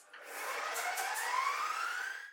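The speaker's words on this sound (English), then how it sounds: "I need to turn my mixer on first." An electric mixer runs with a smooth, rising whine as it beats icing for outlining biscuits. Steady and fairly quiet, with no talking.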